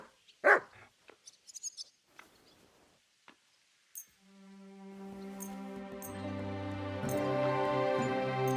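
A dog in the medieval game Kingdom Come Deliverance 2 gives a few sharp, close barks and yips, then goes quiet before a sustained musical tone swells in and continues to the end.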